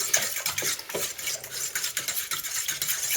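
A fork stirs boilie base mix and liquid ingredients in a bowl with quick scraping, clinking strokes against the sides. The close, busy rhythm runs for a few seconds with no talking.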